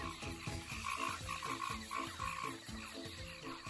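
Frogs croak in a jungle, a steady rhythmic chorus of repeated calls overlapping continuously at moderate loudness with a dense background of other wildlife, no voices.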